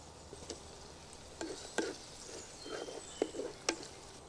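Onions, mint and coriander frying in oil for prawn pulao, a soft steady sizzle with several light scraping stirs and small crackles spread across the moment, quiet and close, with no talk.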